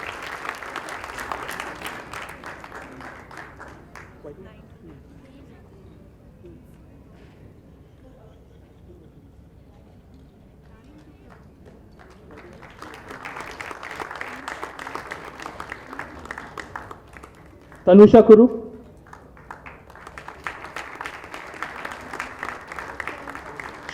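Audience applause at a junior chess championship awards ceremony in India, broad bursts of clapping rising and fading in waves between stretches of an announcer calling out names, with a loud sharp knock near the end.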